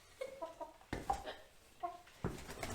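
Chickens cluck in short, close bursts beside a chicken tractor, a few separate calls rising and falling over roughly three seconds with no talking.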